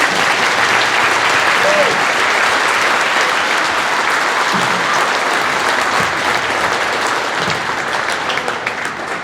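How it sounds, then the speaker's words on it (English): Loud, full applause fills a school district concert hall for about nine seconds, dense and steady before tapering slightly at the end. "Let's give them all a big round of applause"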